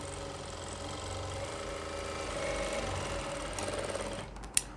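Sewing machine running steadily as it stitches a seam on a pair of pants, a continuous close mechanical whir with a brief sharp click near the end.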